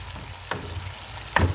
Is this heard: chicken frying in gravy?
yes